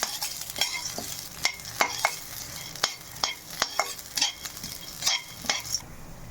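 Chana dal roasting in a pan over medium heat, a soft steady dry sizzle broken by repeated sharp scraping and stirring clicks of a spatula, close and moderately loud with no talk.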